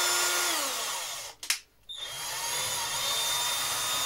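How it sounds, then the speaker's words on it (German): Loud electric drill boring into wood, whirring steadily up close, with a brief drop out of the bore a little past one second before it spins up again. "Hier habe ich schief gebohrt."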